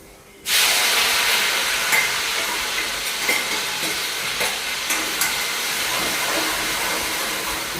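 Cumin, chilies, garlic and ginger hitting hot oil in a pan for a paneer dish, a sudden loud sizzle that bursts in and holds as a steady close hiss with small crackles.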